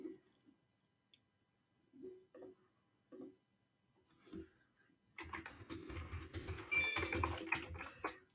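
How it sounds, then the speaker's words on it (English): Typing on a computer keyboard during a casual online chat: a few scattered soft key clicks early on, then a denser, louder burst of rapid clatter with some background noise toward the end, no talking. "I'm literally typing to Jordan, can you hear me?"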